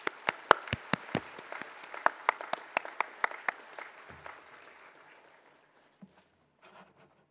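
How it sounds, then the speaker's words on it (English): Sparse hand clapping from an audience at a University of London graduation ceremony, a handful of sharp, distinct claps ringing out in an echoing hall and tapering off into quiet, with a last isolated clap near the end. "please join me in applauding our graduates for their achievements"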